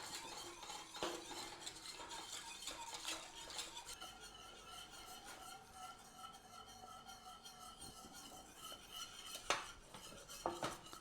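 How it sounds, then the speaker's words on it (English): Steady whisking and stirring of a gluten-free béchamel sauce in a pan over a flame, with continuous scraping and light metallic clinks of a whisk against the pan, moderately close and without talk. "all we're going to do is just keep whisking it until it thickens up"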